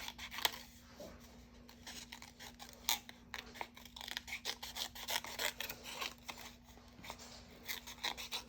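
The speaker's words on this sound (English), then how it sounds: "One more leaf to cut out." Scissors cutting a paper leaf make quiet, close snips and rasping crunches in an irregular rhythm over a steady low hum.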